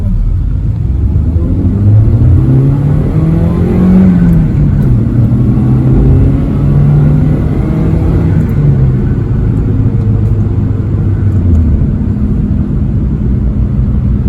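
Car accelerating steadily in 4th gear toward 40 mph with a clear, unrestricted exhaust, captured close to the tailpipe: a loud, continuous low rumble with a slowly rising and dipping engine drone, no voices.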